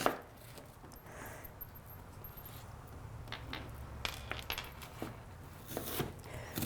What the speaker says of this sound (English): you're going to chop it into little